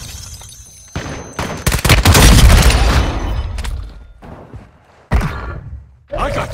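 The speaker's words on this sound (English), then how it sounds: "Stun grenade out!" A stun grenade goes off in Warzone Mobile: a loud, heavy boom swells and rolls for about a second, surrounded by sharper thumps and gunfire, with short bursts of voices around it.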